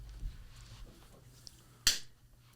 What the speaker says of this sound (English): You just gotta do the clap. Clap us in.